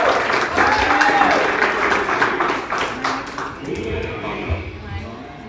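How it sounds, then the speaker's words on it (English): An audience at a talk on hip-hop history breaks into loud, dense applause that tapers off after a few seconds as a voice begins speaking. "Round of applause, everyone."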